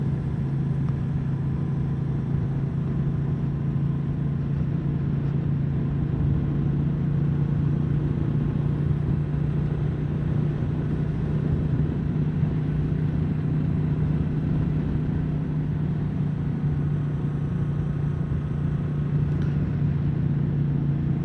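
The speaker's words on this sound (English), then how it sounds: "we're in 4th gear, and we should be able to just happily chug around these bends in 4th gear" A Royal Enfield Meteor 350 motorcycle riding along in 4th gear, a steady low engine drone and rumble mixed with road and wind noise, unbroken and even throughout.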